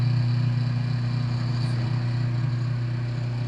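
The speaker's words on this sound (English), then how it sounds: "it fires up pretty quick because that's a dual capacitor motor" A Smith+Jones dual capacitor electric motor from Harbor Freight runs at steady speed after starting, a loud, even hum with strong low tones and no break or pause, alone without talk.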